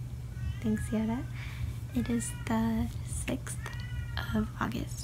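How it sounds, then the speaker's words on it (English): A house cat meows repeatedly close by at night, several short tonal meows in quick succession mixed in with a person talking over a steady low hum. "That's my cat."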